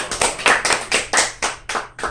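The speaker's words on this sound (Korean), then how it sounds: "박수!" A small high-school Bible study group at a Baptist church claps together in a short burst of about eight rhythmic, fairly loud hand claps, with no talking.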